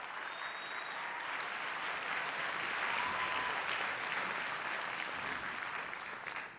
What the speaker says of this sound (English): How about another round of applause for not only the best mayor